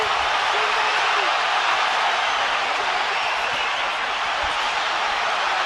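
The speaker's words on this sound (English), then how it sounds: "But the crowd are going crazy" Boxing arena crowd at the Golovkin vs Alvarez fight, a steady, loud wash of cheering and roaring throughout with no pauses.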